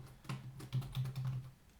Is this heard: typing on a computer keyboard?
yes